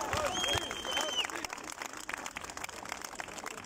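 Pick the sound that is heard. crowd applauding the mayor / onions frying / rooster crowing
crowd applauding the mayor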